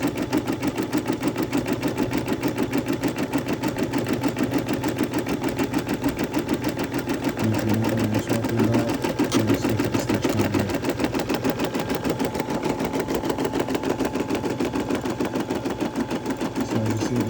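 An embroidery machine stitches a glow-in-the-dark Masonic patch, its needle hammering in a fast, steady mechanical rhythm with a constant motor whir, close and loud throughout with no talk.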